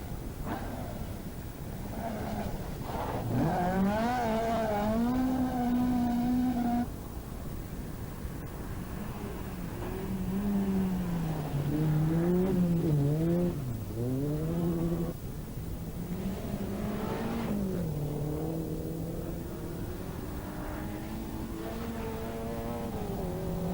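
Rally car at the 1988 Killarney Rally of the Lakes revs hard through the gears on a stage, its engine note climbing and dropping with each shift, heard from a moderate distance at a steady level.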